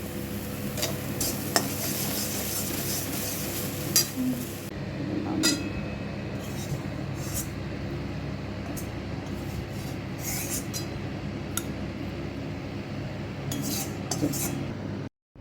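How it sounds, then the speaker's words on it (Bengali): Katla fish fries in oil in a home kitchen pan, a steady dense sizzle with occasional scraping clinks of a utensil, continuing without talk until it cuts off abruptly at the end. "তো দেখো মাছ ভাজছে, এই দেখো"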